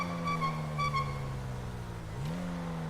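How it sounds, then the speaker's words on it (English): Video game car engine running steadily with a low droning tone that shifts pitch midway, as if revving or changing gear, heard alone and fairly loud. "I love the engine sound."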